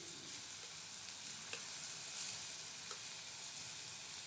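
Sliced onions, slit green chillies, tomato and ginger-garlic paste sizzle in a pan, a faint continuous frying hiss with a couple of light stirring clicks, no voices.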